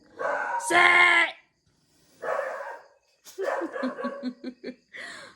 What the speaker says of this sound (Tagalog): yung aso ko, yung iro ko dun sa gawas is nagyaw-yaw, nag-appeal